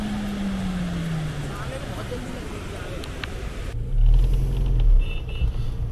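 A car engine labours and revs on a rough, broken mountain road on the drive toward Badrinath, rumbling low and rising in two louder surges near the end.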